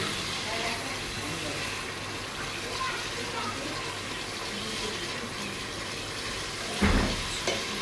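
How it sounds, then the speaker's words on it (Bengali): Ginger paste, garlic paste and onion frying in oil for American chop suey, a dense steady sizzle filling the background, with a stirring clatter near the end. "এটাতে জাস্ট আদা বাটা, রসুন বাটা এবং ভাজে খোলা পেঁয়াজ উইথ অয়েল আমি ভেজে নিচ্ছি।"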